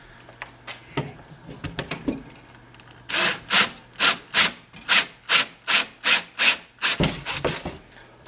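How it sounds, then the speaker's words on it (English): Hand drilling a hole in a wooden jack trap with a 1/4-inch bit, a rhythmic series of about a dozen loud grinding strokes, close-up, preceded by lighter scraping and tapping; no talking. "you want to drill your hole at least that deep into the trap with this with your 1/4-inch drill bit"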